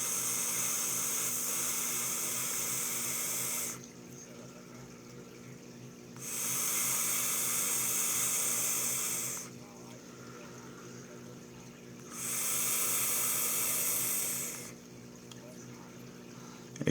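A vape RTA bubbles and gurgles during long inhaled hits, three loud watery bursts of several seconds each separated by quieter pauses, heard up close.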